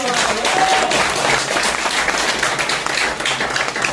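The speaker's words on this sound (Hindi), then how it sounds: "थोड़ा जोरदार ताली होना चाहिए।" Sustained applause from an audience at a training programme event, loud and dense steady clapping for the full length with a faint background voice.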